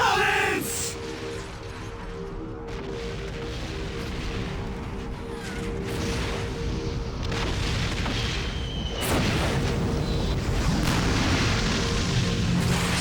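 Fireworks burst in the PS2 role-playing game Magna Carta: Tears of Blood: a steady run of deep booms and crackling pops over sustained musical tones, loud and continuous throughout.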